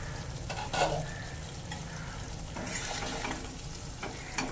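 Vegetables being stirred in a pan with spiced potatoes cooking for a fish curry (fasha macher jhol), a steady low sizzle under scraping stirs and a brief louder clatter near the start, no voices.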